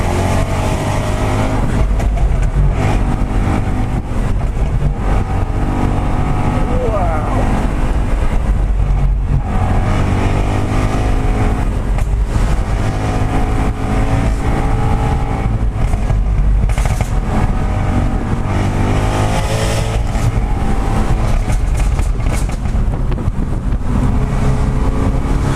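A Jaguar F-Type engine roars steadily as the car drives with the sunroof open, its loud, continuous note swelling and easing without a break and no talk over it.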